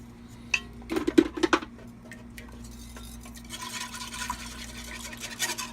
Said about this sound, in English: A little whisk action might help.